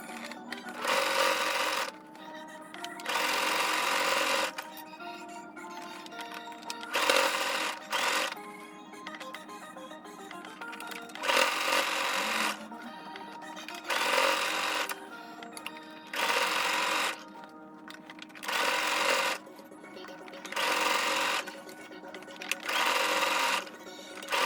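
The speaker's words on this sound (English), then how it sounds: "we're gonna make a top stitch, zigzag stitch on the top" Sewing machine zigzag stitching fabric for a gathered elastic skirt, running in repeated bursts of a few seconds each with short pauses between, close and loud, with occasional faint talk in the gaps.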